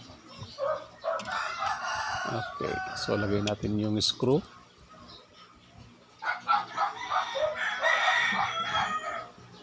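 Chickens and a rooster cackle and crow nearby, with a dog barking in the mix, while someone talks over the animal sounds and small tools clink close by.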